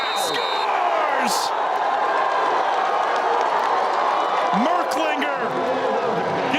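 A lacrosse crowd at an NCAA first-round game between Richmond and North Carolina erupts in loud, sustained cheering and applause after a game-tying goal, with whoops rising over the roar and a commentator talking over it.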